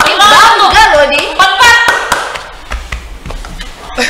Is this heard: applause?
yes